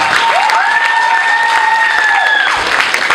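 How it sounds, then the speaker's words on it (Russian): An audience at a university KVN comedy quarterfinal applauds with loud, dense, continuous clapping, and a sustained whistling tone rises and holds above it. "Еще раз аплодисменты первому блоку."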